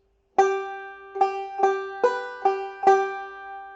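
Banjo picking one measure of Make Me a Pallet on the Floor, six clear plucked notes with ringing decay in an uneven rhythm, close and alone after a moment of silence.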